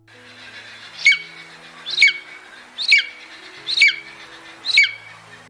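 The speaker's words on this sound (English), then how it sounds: "This impressive bird is a golden eagle." Golden eagle giving five evenly spaced, sharp high calls about a second apart, each a quick rising yelp with a thin trailing note, clear and fairly close over a faint low background hum.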